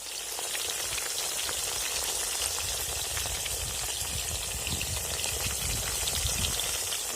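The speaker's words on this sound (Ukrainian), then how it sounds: "закинули на сковорідку кабачки" Continuous loud sizzling and crackling of zucchini frying in a hot pan, a dense steady hiss close up with no talking.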